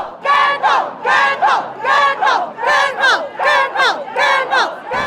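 A huge crowd of Gyeongdo fans gathered in a fishing village chants in rhythmic, loud bursts, about nine repeated shouted phrases in steady cadence with brief dips between them.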